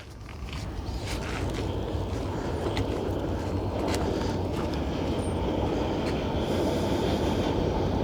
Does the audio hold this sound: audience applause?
no